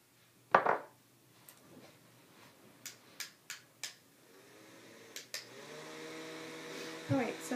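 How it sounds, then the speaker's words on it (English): A small electric fan is switched on to dry glitter tattoo glue, its steady motor whir and tonal hum starting after a series of light clicks and taps nearby. "I'm going to just use this fan to dry that glue that I just applied freehand"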